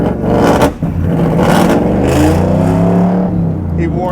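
A 700-horsepower LT4 V8 in a 1967 Camaro pro touring build runs loud and close with a steady, rumbling drone, its pitch sliding and rising through the revs without a break.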